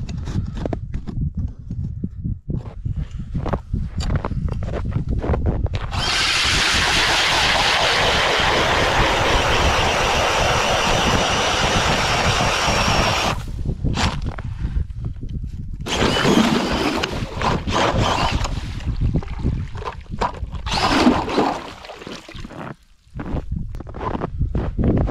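A StrikeMaster Lite Flite battery ice auger with an 8-inch bit bores through solid lake ice, giving a loud, steady grinding roar for several seconds. Rougher handling noise comes before and after the drilling.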